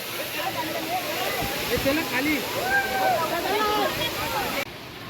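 A waterfall in Konkan, Shri Wagheshwar falls, pours with a steady rushing roar while tourists chatter and shout nearby, ending with a sudden drop in level.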